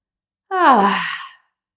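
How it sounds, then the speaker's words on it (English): A single audible exhale during a somatic neck-relief exercise, a soft sighing breath lasting under a second, close and alone after silence. "and exhaling, releasing that breath."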